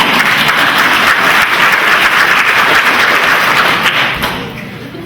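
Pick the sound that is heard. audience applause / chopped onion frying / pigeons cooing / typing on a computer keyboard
audience applause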